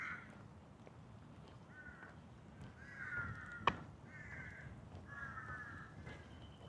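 Crows caw repeatedly from some distance, about five harsh calls spaced a second or so apart over a low outdoor rumble, with one sharp click partway through.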